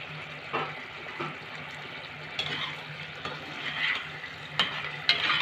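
Potato balls for Aloo 65 frying in hot oil in a pan over a gas flame, a steady close sizzle with soft bubbling crackle and a few sharper spits and clinks throughout.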